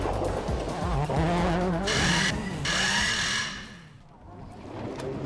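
A rally car in the 2003 World Rally Championship at Rally Cyprus works through a tight run of corners, its engine rising and falling with each bend alongside bursts of tire noise, fairly close and loud.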